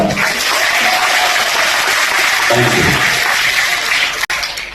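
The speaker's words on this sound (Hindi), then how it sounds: "मैं चाहूंगा विदाउट म्यूजिक एक बार फिर तालियां जोरदार" Applause from an audience at a tribute event in memory of a singer, steady and fairly loud hiss-like clapping filling the stretch, with a brief spoken thanks near the end.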